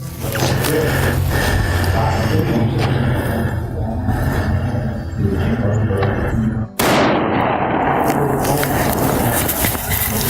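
Rifle shots fired at an outdoor range during a beginner firearms session, with loud sharp reports and a sudden heavy blast partway through, amid ongoing noise.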